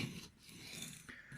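A steel knife blade is drawn over an Arkansas whetstone in steady back-and-forth rasping strokes, close and fairly quiet, with short pauses between passes.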